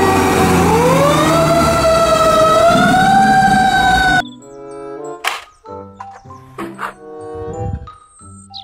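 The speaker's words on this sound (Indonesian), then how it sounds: "Mobil truk pemadam kebakaran." A toy fire truck plays an electronic siren, a rising and steady wailing tone that is loud and close, then cuts off and gives way to short chiming, jingly toy sound effects.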